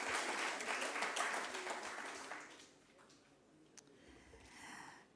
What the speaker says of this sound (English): Let me know hear your clap.